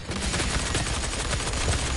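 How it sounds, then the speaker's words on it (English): Gauss cannon fire in a PS4 video game comes as a dense burst of rapid, loud, crackling shots and blasts, steady for about two seconds with no speech. "Oh, Gauss cannon, Gauss cannon."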